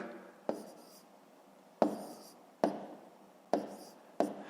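Pen or chalk writing out numbers for column multiplication in a fifth-grade maths exercise, five short sharp taps or strokes spaced irregularly, each trailing off into a quiet scratchy hiss, close and soft with no talking.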